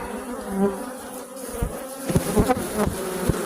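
Agitated honeybees buzzing around an open hive during an inspection, a dense steady drone close to the microphone with occasional louder bursts as bees fly past.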